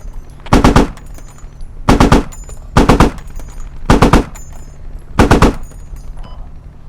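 A small gun fires in five short bursts of rapid shots during Squad gameplay. The bursts are loud and close, separated by brief pauses, and no one speaks over them.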